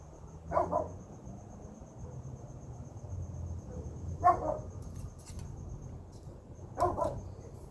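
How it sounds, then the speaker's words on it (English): A dog barks three times at spaced intervals, fairly close, over a low background hum with a faint steady chirp. "And that is my dog Snickers."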